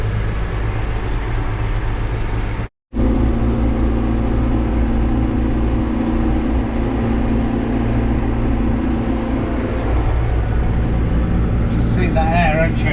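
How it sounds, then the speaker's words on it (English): A Volvo truck's engine drones steadily and close by with a low rumble, broken by one brief dropout, while traffic-like noise continues throughout. "Very smart Volvo truck."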